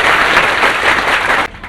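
Students at a CTET coaching institute applaud loudly, a dense, close wash of many hands clapping that holds steady and then cuts off abruptly near the end.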